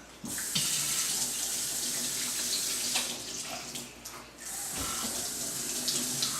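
Water runs steadily from a kitchen tap into a sink while hands are washed with soap, a continuous close hiss that dips briefly midway before resuming.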